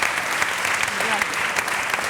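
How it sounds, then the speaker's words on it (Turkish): Studio audience applause on a Turkish talk show, a sustained, even patter of many clapping hands filling the whole stretch at close range. "alkışladım ben"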